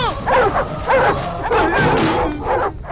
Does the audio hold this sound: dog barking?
yes